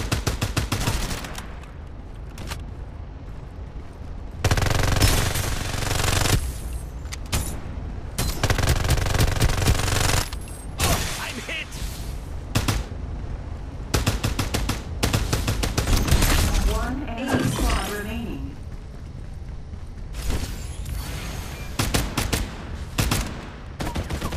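Repeated bursts of automatic gunfire in the Farlight 84 battle royale game, loud rapid volleys separated by short quieter gaps, with some sharper single shots.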